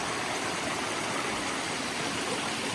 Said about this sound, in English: Here's a stream crossing.